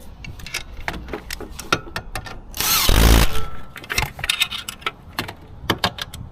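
Bolts holding the motor of a Rosso E-bully ATV being retightened with a hand tool: a steady run of sharp metallic ticks and clicks close by, with a brief louder burst of rattling in the middle.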